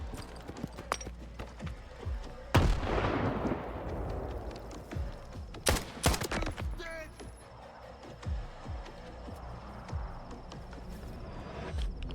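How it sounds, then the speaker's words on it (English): Grenade explosion and gunfire in the shooter game S.T.A.L.K.E.R. 2: Heart of Chernobyl, a loud blast followed by scattered sharp shots and rumbling impacts amid ongoing game ambience. "Another grenade's been thrown."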